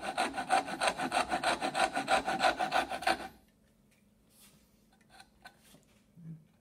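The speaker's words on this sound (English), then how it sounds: "you can actually do these with a tenon saw. So remember to cut on the waste side of the line" A tenon saw cuts dovetail tails in wood with about a dozen quick, even rasping strokes for three seconds, then stops, leaving faint scattered workshop knocks and shuffles.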